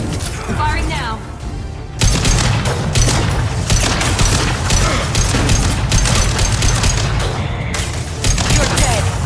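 Rapid, loud bursts of gunfire from a weapon in Mass Effect 2 crack in dense, repeated volleys after a brief lull, with voices faintly mixed beneath the shooting.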